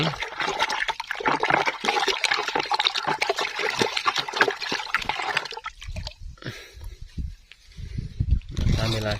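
Gandasil B fertilizer being stirred into water, a sloshing, swirling liquid sound close by, steady for several seconds before thinning out, with voices talking over it.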